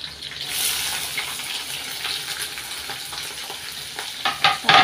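Onion, mustard seeds and curry leaves frying in a pan for a yellow potato dish, giving a steady close sizzle with stirring scrapes and louder bursts toward the end.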